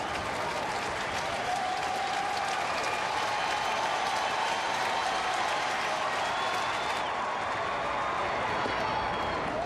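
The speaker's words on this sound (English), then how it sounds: "Crowd trying to get behind Chapman." A baseball stadium crowd cheers and applauds steadily for a relief pitcher in the ninth inning, a dense, continuous roar of clapping and shouting with no break.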